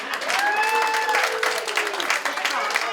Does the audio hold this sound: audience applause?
yes